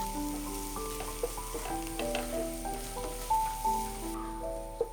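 Onions frying in a pan until brown, as the first step of a vegetable korma: a steady close sizzle with occasional clicks and scrapes from stirring, and no talking.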